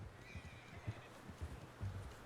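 A horse in the video game Red Dead Redemption 2 whinnies faintly and snorts, with soft clip-clop hoofbeats thudding at intervals under a low game background and no talk.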